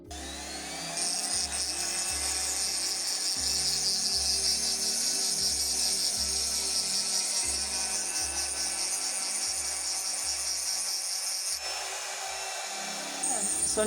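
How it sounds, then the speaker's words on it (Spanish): A mechanical rotary drill tool running in a workshop, a high whining buzz held steady with a rapid rhythmic low pulsing beneath, close and continuous, easing briefly near the end. "O sea, son tornos taladros mecánicos."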